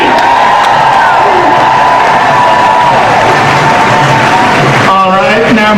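A rally crowd at an outdoor tax march in Chicago cheers and applauds for a congresswoman, loud dense clapping with whoops and shouts, and a voice cutting in over the noise near the end.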